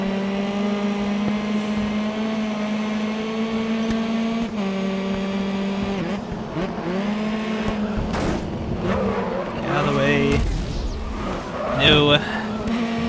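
Race car engines in the video game GRID Autosport drone with steady harmonic whines, then rev and shift pitch as the cars accelerate, with someone talking over the engine noise.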